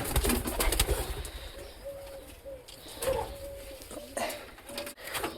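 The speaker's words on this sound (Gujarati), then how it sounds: "10 જેવા કબૂતર હે અમારે પાળેરા હે મસ્ત મસ્ત।" About ten pet pigeons kept on a farm coo softly in repeated low phrases, fairly faint and set against a steady outdoor wash of noise.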